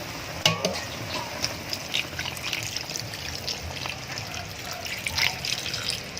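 Pork sizzles and crackles in a pan as a little water is poured in, with scraping stirs and bright spitting pops over a steady frying hiss.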